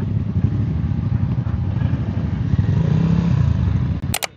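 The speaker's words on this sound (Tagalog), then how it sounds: "Ito, ang dami ng motor dito." Many motorcycles and scooters rumble and idle together at a crowded breakfast-ride stop on Marilaque, a steady close engine drone throughout with a brief clatter near the end.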